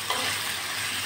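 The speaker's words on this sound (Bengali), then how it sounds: "আলুগুলো লাল করে ভেজে নেব।" Potatoes with a little salt and turmeric frying in oil in a pan, a steady broadband sizzle that holds at an even level for the whole brief moment.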